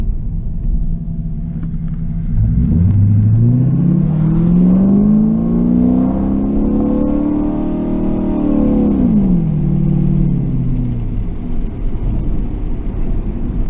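A Chinavette car with a second-gear fault pulls away in an easy takeoff, its engine note rising steadily through several seconds, then dropping off as the gear changes, with low rumble throughout.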